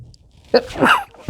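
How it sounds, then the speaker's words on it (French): One close sneeze bursts out, a sharp intake followed by a loud explosive release, then a short quiet breath. "je vais avoir envie d'éternuer, excusez-moi"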